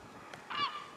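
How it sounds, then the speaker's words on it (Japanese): A single seagull cries over Mont Saint-Michel, France, one short, bright, harmonic call at moderate distance against quiet outdoor air. "カモメたちもいっぱい"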